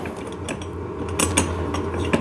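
An 8mm tool works a nut on a ride-on toy tractor, producing close mechanical ratcheting clicks and small metallic taps over a couple of seconds.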